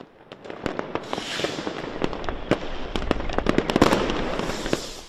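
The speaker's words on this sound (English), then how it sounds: "the Berlin night sky was illuminated by a spectacular firework display" New Year fireworks over the Berlin night sky, a dense run of sharp bangs and crackles bursting at irregular intervals, some close and some distant, with no talk.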